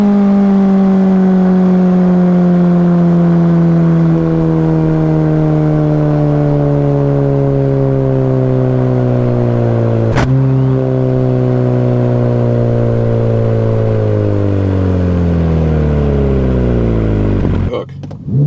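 Ferrari F8 Tributo under launch-control acceleration, its turbocharged engine loud and close with a steadily climbing, gear-stepped roar as turbo boost builds, a sharp shift break midway, and another shift near the end.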